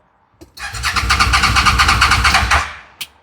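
A street-legal Smart car engine cranks and catches, running in a loud, rough, pulsing burst for about two seconds before cutting out, followed by a single sharp click.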